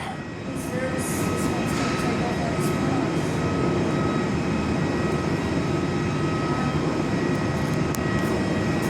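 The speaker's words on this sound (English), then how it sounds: "F100 is going around." Fokker 100 airliner going around at Perth Airport, a steady loud jet engine roar with whining tones that holds throughout, heard from an indoor viewing platform.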